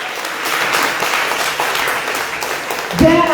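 Audience applause at a church testimony festival, a short burst of clapping under a voice speaking.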